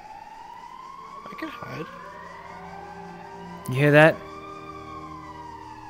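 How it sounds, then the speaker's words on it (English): Police sirens wail in the distance in the VRChat video game, faint rising and falling tones running steadily under the scene, with a person speaking briefly over them. "I hear the sirens in the distance."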